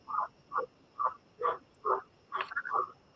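Frogs croak in the background in a steady series of about seven separate calls, evenly spaced and fairly faint, with no talking over them.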